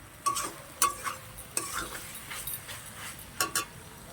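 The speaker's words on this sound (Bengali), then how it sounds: "একটু নাড়তে হবে আর কি, হয়ে যাওয়ার মতো একটু নাড়তে হবে, না হলে পুড়ে যাবে।" Vegetables cooked with onion stalks being stirred in a pan, with scraping strokes and a few sharp spoon knocks against the metal over a faint background sizzle and no talking.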